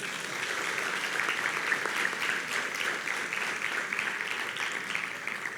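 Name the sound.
applause, clapping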